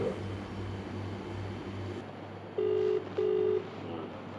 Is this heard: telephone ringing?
yes